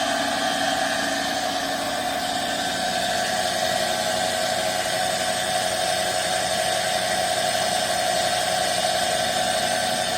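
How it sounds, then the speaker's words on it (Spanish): A three-phase electric motor runs unloaded at 1800 RPM, giving a steady, continuous hum and whine with strong tonal bands, unchanging and alone for the whole stretch. "Registramos potencia que está tomando el motor."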